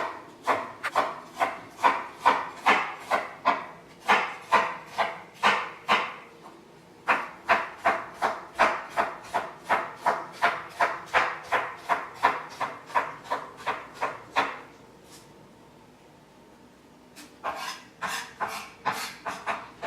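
A knife finely chopping onion on a wooden board: quick, even strokes at a steady rhythm, close and crisp, with a short break midway and a longer pause near the end before the chopping resumes.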